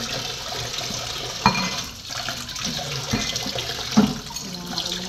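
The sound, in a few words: washing dishes under running tap water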